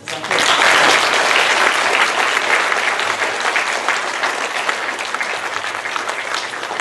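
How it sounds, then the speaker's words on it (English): A large audience breaks into loud, sustained applause for young people at a school event, the clapping rising sharply and then easing slightly while staying strong throughout. "Can we give the young people another massive round of applause?"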